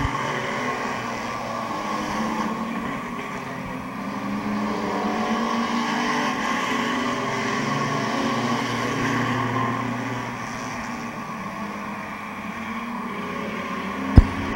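Race cars on the final lap of a heat race at Midvale Speedway drone steadily in a continuous engine roar around the oval, moderately distant and even in level, with a sharp click at the very end.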